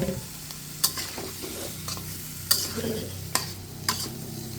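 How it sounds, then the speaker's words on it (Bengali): Pumpkin being stir-fried with cumin powder and green chilies in a pan, a steady sizzle broken by regular scraping stirs and sharp clinks of the spatula, close and alone without talk. "বন্ধুরা, মিষ্টি কুমড়াটা দিয়ে দিচ্ছি। এখন আমি কষিয়ে নেব।"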